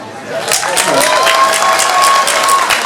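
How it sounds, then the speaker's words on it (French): Audience applause fills the room at a horror film festival interview event, a steady, dense wash of clapping heard close and continuous throughout, with a faint tonal whistle running beneath it. "Donc soyez gentils et on applaudit."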